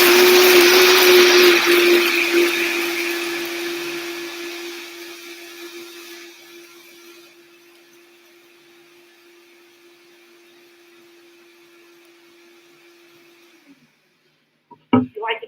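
Blender pureeing homemade salsa, a loud whirring motor that fades and thins over several seconds before cutting off into silence, followed by a few brief clattering knocks at the end.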